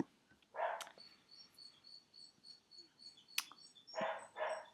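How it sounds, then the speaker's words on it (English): A dog barking indoors, several short barks in two bursts, a single one early and a quick pair near the end, with faint bird chirps in the background and no talking. "Sorry, that's my dog."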